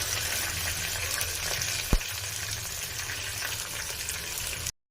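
Onions sauté with curry leaves in a pan for poori masala, giving a steady close sizzle with one brief knock of a utensil partway through, no talking.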